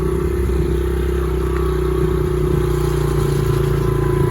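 A Honda CRF70 dirt bike on a woodland trail ride, its small engine running loud and close in a steady, continuous drone with a throaty low buzz throughout.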